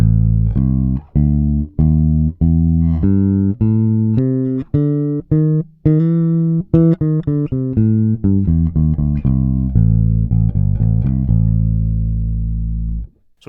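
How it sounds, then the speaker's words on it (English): Electric guitar picking the A blues scale, the pentatonic with an added flattened fifth, as a run of about twenty clear single notes climbing then descending, evenly paced and ending on a sustained held note, with no talking. "And by adding the flattened 5th, we get a new scale which a lot of people call the blues scale"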